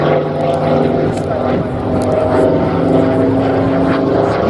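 A Hawker Sea Fury FB 10 propeller fighter at the Flying Legends air show gives a loud, continuous droning piston-engine roar with steady tonal bands throughout, close and dominant.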